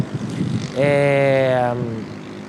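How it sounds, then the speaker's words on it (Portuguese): A motorcycle passes by outdoors, its engine rising into a loud, steady droning hum for about a second before fading away, with faint background noise around it. "desculpe pela moto aí passando, mas a gente está em um ambiente aberto"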